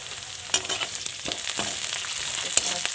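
Onions, cumin and chilies stir-fry in a hot pan, a steady close sizzle broken by several sharp scrapes and clatters as the mixture is stirred.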